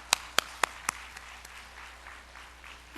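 During a church service, four sharp, close claps ring out in even succession, followed by faint scattered clapping from the congregation in a quiet room.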